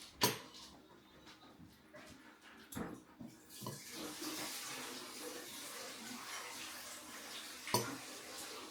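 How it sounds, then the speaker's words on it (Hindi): Water from a dehumidifier's container pours out into a drain, a continuous splashing gush with a few sharp knocks and clunks of the plastic container at moderate distance. "ये रोज पानी के साथ फुल हो जाता है। फिर मैं इसको खाली करती हूँ।"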